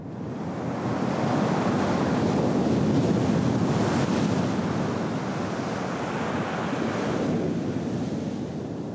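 Ocean surf and strong wind buffet the microphone while windsurfing on glassy two-metre waves in side-offshore wind, a steady loud wash of breaking water and gusting roar with no voices.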